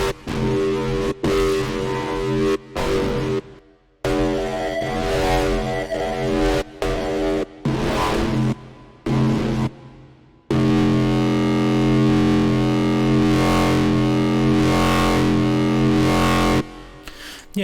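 A screeching, heavily distorted Reese bass patch built in Serum for drum and bass, run through diode distortion with a filter, plays loud and sustained in choppy phrases with brief gaps, then holds a long continuous swell.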